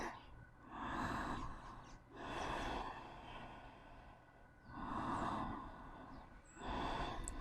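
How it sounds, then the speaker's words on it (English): Slow, deep breaths during a challenging vinyasa yoga flow, about four long swelling inhale-exhale cycles, close and fairly soft, with no talking. "Taking deep breaths here"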